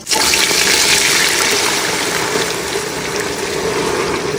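Milk is poured into browned, caramelised sugar and ghee for palada payasam, a loud, close, rushing gush that erupts suddenly and holds steady as a dense hiss throughout.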